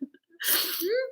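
One loud, close sneeze bursts out during a talk, preceded by a short sharp intake of breath and trailing into a brief voiced tail.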